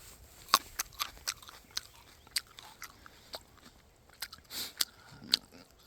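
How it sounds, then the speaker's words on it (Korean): Someone picks and bites into small Smilax china berries outdoors, giving soft, irregular crunches and wet chewing noises close to the mouth, scattered over a few seconds with no talking. "냉감나무 열매입니다. 한번 먹어보도록 하겠습니다."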